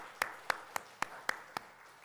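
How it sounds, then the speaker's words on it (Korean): Six sharp claps spaced about a quarter second apart ring out in a church, crisp and evenly paced, a moderately quiet rhythmic clapping rather than full sustained applause. "하나님의 영광의 박수 드리겠습니다"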